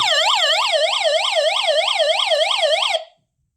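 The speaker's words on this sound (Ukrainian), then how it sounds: "А щоб зайти в режим сирени, потрібно затиснути утримання." A hand-crank dynamo emergency radio flashlight sounds its siren mode: a loud electronic wail sweeping up and down about four times per second, steady for roughly three seconds, then cutting off abruptly into silence.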